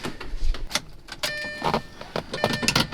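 A 2003 Lamborghini Murcielago primes its fuel pump before a cold start, giving short electric whines and faint tonal hums mixed with close clicks and small mechanical knocks over a few seconds.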